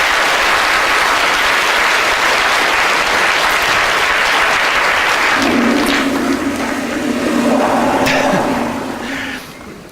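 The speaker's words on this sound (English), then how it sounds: "Big round of applause for everybody." A live theatre audience breaks into loud sustained applause, dense clapping that swells and holds, with a whoop and a raised voice rising over it before the clapping fades.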